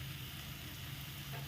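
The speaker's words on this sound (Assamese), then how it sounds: "আলুটো দি মই এইখিনি ভালদৰে ভাজি ল'ম।" Spices and a boiled potato frying in a pan over a lowered gas flame for an Assamese fish curry, a quiet, even sizzle throughout.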